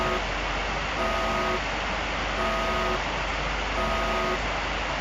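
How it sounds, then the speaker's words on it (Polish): A repeating electronic alarm in a Roblox game sounds in steady beeping bursts, four evenly spaced tonal pulses over a constant noisy hum, with no talk. "już się włączył alarm"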